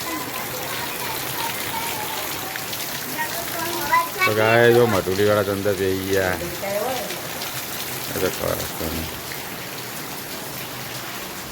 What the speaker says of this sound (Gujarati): તો વરસાદ ચાલી રહ્યો બહાર.